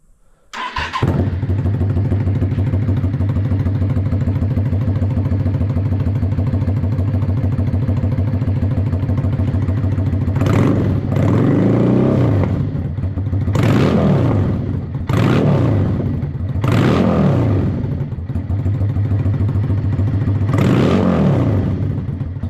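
A motorcycle fitted with a new exhaust starts up and idles loudly, then is revved hard five times in separate bursts, each rising and falling back to a steady close-range idle.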